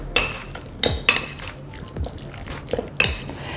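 Chicken curry marinade with salt and chili powder being mixed in a bowl, heard as several sharp clinks and scrapes of a utensil against the bowl spaced about a second apart, close and without talk.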